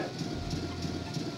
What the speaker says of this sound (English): Oh, I heard the train!